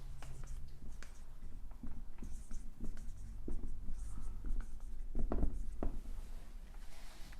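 A hand writes a math property on a classroom board during an exponents lesson, with soft scratchy strokes and light taps in short irregular bursts, close and fairly quiet.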